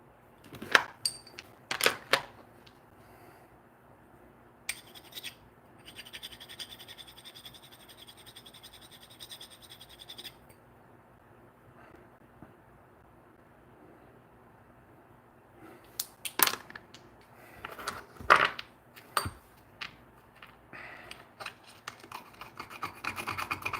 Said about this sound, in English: Regular carbide dulled like that will not scratch like that on a ruby there.